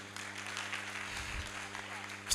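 A church congregation gives faint, scattered applause in a reverberant hall, quiet and diffuse with a low hum beneath, ending in a short louder burst.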